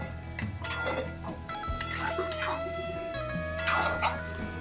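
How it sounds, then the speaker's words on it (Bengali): Poppy-seed paste being mixed with potatoes, stirred with a utensil in a metal pan, producing repeated clinks and scrapes of metal on metal with a brief soft hiss, close and moderately loud. "পোস্ত আলু খুব ভালো করে মিশিয়ে নেব"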